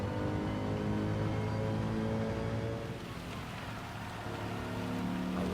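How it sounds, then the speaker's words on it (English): Rain on the track during a Gran Turismo 7 Manufacturers Cup race at Suzuka, a steady loud hiss of spray and downpour blended with droning race car engines, continuous throughout. "A lot of rain now."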